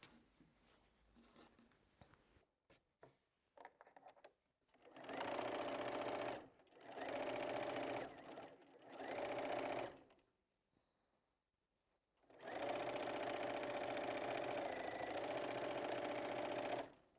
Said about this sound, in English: And then I'm going to sew this piece to this piece.